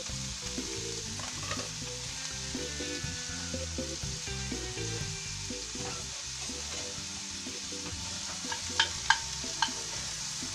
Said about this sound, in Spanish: Vamos a agregar un chorrito de aceite de oliva, y vamos a poner a dorar la cebollita